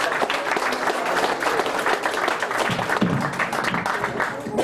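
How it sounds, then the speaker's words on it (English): Audience applause at a senior party hypnotist show in Saugatuck, a steady crowd clapping that fills the moment, with some mixed voices and noise running through it. "On the count of three, audience, give these fellas a round of applause"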